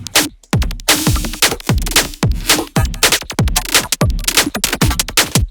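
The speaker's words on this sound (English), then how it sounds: "So just like a choppy drum loop kind of thing" A choppy drum loop with punchy kicks and sharp hits in a tight, stuttering rhythm, loud and up close.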